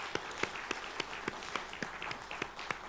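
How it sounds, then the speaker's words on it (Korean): A church congregation at a Sunday worship service claps in a steady, rhythmic pattern of distinct hand claps, faint and somewhat distant, with no voices over it. "큰 박수로 맞이해 주시길 바랍니다"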